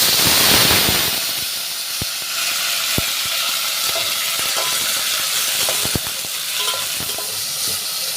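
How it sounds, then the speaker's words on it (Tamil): Onions and tomatoes sauté in oil with curry leaves for a lentil dumpling kuzhambu, a loud, continuous sizzle and hiss close by, dotted with sharp ticks and scrapes of stirring. "வெங்காயம் தக்காளி எல்லாம் வந்து வதங்கிட்டு இருக்கட்டும்"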